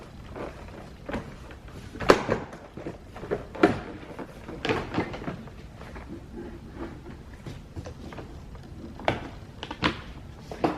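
Interior door panel being pried and pulled off the door of a 2006-2013 Mercedes-Benz S550 W221, a series of irregular plastic clicks, pops and knocks close by, with several sharper snaps standing out over soft handling noise.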